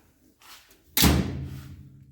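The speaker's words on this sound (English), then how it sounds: "door closes now pretty good" A suicide door on a 1929 Chevy street rod, its seals not yet fitted, swings and shuts with a single loud, close slam. A short low rumble follows.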